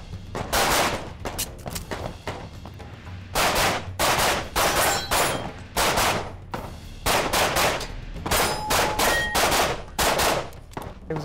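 Rapid gunfire at a practical shooting match in the open division, loud close shots in quick strings separated by short pauses, sharp cracks repeating across the run.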